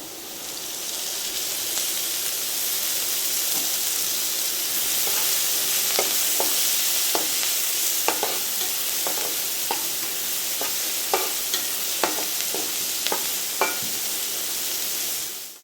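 Chopped onions frying in oil in a pan for a masala egg omelette: a loud, steady hiss of sizzling fills the whole stretch, with scattered clicks and taps of stirring on top and no voices.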